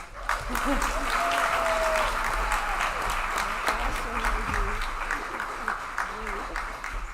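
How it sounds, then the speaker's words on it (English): Steady applause from a crowd at a disability mentoring reception, filling the whole stretch, with a few voices and cheers mixed into the clapping. "I want to have a real big round of applause for her"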